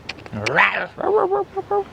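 A dog close by gives a whiny, yelping vocalization followed by a few short barks, mixed with a person's voice.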